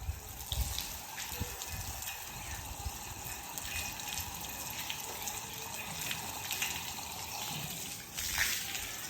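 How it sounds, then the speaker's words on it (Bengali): Water running from a hose or can onto rooftop garden plants in midday sun, a continuous close splashing gush with uneven trickles and a stronger surge near the end, no talk. "গাছে জল দিচ্ছি কিচ্ছু হয় না"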